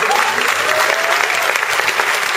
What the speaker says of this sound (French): Je vous demande d'ailleurs de l'applaudir